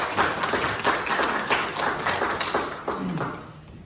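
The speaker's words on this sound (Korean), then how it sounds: "우리 다시 한번 박수 한번 드릴까요?" A church congregation claps for a deacon visiting after a long absence: steady, moderately loud clapping from many hands, close and without speech.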